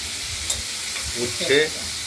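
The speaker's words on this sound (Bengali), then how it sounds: "উচ্ছে ভাজা, চাক চাক করে কেটে, আর এর সঙ্গে একটা আলু ছিল সেটাও দিয়ে দিয়েছি, একটু ভাজা হবে এর সঙ্গে" Bitter gourd slices and potato, coated in salt and turmeric, frying in oil in a wok, with a soft continuous sizzle and a couple of brief stirring scrapes up close.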